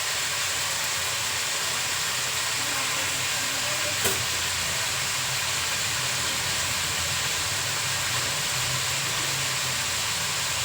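Chopped green chilies frying in a pan, making a steady, even sizzle that runs unbroken throughout, with a single brief sharp tick partway through.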